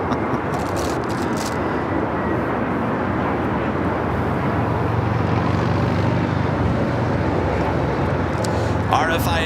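A jet airplane at LAX roars steadily during takeoff, a loud sustained engine rumble filling the air, with people speaking over it.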